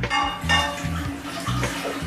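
Water pours from a measuring cup into a pot for chicken stock in a home kitchen, a short gurgling, splashing stream that rises in pitch as the pot fills, in two close bursts.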